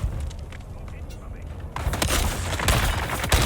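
Heavy gunners' gunfire in the video game Dune: Awakening, a dense burst of rapid shots and booms that grows louder after a quieter start, loud and close under mixed game noise.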